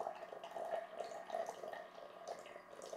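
Water running steadily from a RainPoint solar SmartClip irrigator through about 10 metres of garden hose, a continuous close splashing flow with a faint dripping texture throughout.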